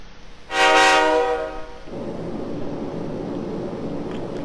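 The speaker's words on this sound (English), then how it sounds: "Inside the New City passenger train" A passenger train from the video game Persona 3 Portable sounds a loud, sustained horn blast, then settles into a steady rumbling roll along the rails, with no voices present.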